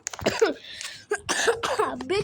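Several harsh coughs in quick bursts, close to the listener, with a short pause in the middle before another round of coughing.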